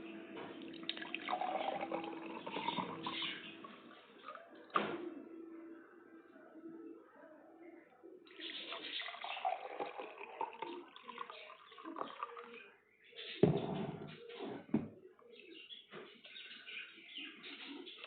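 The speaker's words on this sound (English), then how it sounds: "I'll pour some water in each glass," Water splashes and trickles into one of two glasses for several seconds, pauses, then pours again with a louder burst of splashing near the end.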